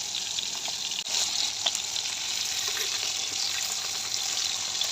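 Koi fish frying in hot oil gives a steady, close sizzle with crackling spatter throughout, a sharp knock near the start and no voices.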